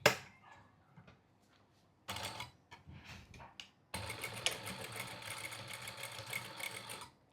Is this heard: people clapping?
no